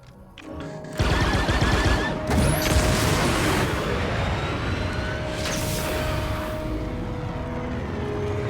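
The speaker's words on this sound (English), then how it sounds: "So we'll first go to the regular laser cannons." Rapid, continuous blasts of spaceship laser cannon fire in Star Wars Outlaws with booming impacts, loud and dense, rolling on without pause over a roaring engine drone.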